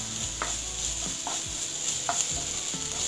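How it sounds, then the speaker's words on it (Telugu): Onions and ginger paste fry in a pan, a steady sizzle broken by a few scraping stirs of a spoon, close and alone with no talking. "పచ్చివాసన పోయే దగ్గర ఫ్రై చేసుకుందాం."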